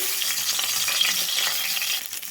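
Bitter gourd pieces frying in hot oil in a pan, a strong continuous sizzle heard close and alone that eases slightly near the end.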